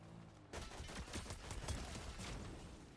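Rapid gunfire rattles through a video game firefight, a dense volley of shots with a few sharp bursts standing out over a steady, loud barrage.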